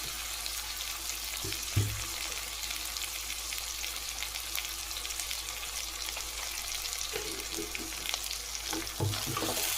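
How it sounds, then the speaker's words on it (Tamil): Tomatoes with salt sauté in a pan for a taro curry, producing a steady, dense sizzle with a few soft stirring knocks, close by and without talk. "உப்பு போட்டுட்டு தக்காளியை வதக்கிக்கலாம்."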